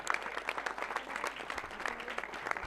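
A crowd applauds at a prize distribution for a sports tournament in Shembawane, with dense, steady clapping throughout and no break.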